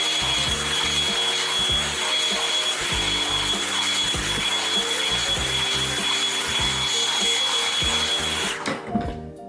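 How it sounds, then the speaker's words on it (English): A hair dryer roars continuously up close while blow drying kinky hair at the roots, its airflow rubbing and shifting as it moves through the hair, cutting off abruptly near the end. "So I'm trying to like blow dry that out a little bit."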